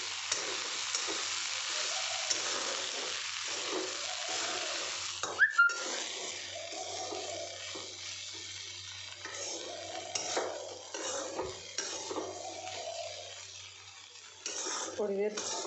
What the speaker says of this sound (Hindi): और अब हम इसको मिक्स करते हैं सभी को।